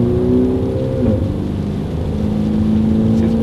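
A 2021 Mini John Cooper Works Clubman in sport mode, not fully warmed up, accelerates gently with a steady, loud, droning exhaust note that climbs in pitch, heard from inside the cabin.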